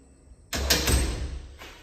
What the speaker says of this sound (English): the door automatically closes on its own.